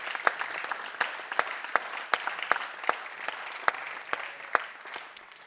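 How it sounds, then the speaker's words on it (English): A conference audience claps for the event organizers, a thinning round of applause where individual sharp hand claps stand out at an uneven rhythm, moderately close. "let's give a round of applause to the organization,"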